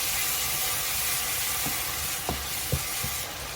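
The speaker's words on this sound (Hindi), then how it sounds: "डालेंगे इसमें गरम मसाला, देंगे इसे एक अच्छा सा मिक्स।" Tadka sizzling steadily in a pan as garam masala is stirred in for dal, a continuous hissing fry with a few soft scrapes of the spoon near the end, no voices.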